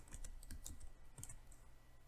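Code being typed on a computer keyboard, a quiet run of quick, uneven key clicks close by, with brief pauses between bursts.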